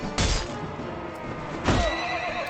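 A horse in the video game Mount & Blade: Warband gives two sharp whinnies, about a second and a half apart, each loud and close over a low background of game noise.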